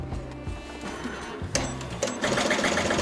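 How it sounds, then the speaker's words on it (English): An embroidery machine stitching a design in reflective thread at a slow 450 stitches per minute, a close mechanical whir with a quick repeating pulse that grows louder partway through. "So the first part of this design is set up to run at 450 stitches per minute. Just runs nice and slow"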